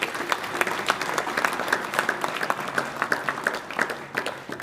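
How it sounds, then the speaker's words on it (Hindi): An audience at a girls' honour ceremony claps steadily, a dense patter of many hands that holds at even strength for several seconds before thinning slightly at the end. "ठोको ताली।"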